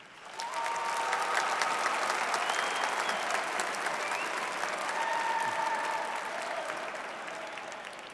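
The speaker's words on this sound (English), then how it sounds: "Please join me in applauding the people who brought you here today." A large commencement audience applauds at a winter graduation ceremony, a dense, steady wash of clapping that swells quickly, holds for several seconds and tapers slightly toward the end, with faint crowd murmur beneath.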